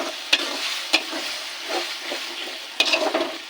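A ground ginger, garlic and green chilli paste frying with onions in a pan for chicken do pyaza: steady close sizzling, broken by three sharp spatula clacks against the pan and some stirring scrapes.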